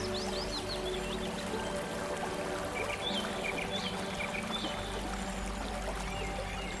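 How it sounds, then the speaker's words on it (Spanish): River water on the Nile pours and trickles gently beneath bushes in a quiet spot, a continuous soft splashing flow with faint bird chirps above it. "en una zona tranquila del río, donde el agua cae suavemente bajo los matorrales"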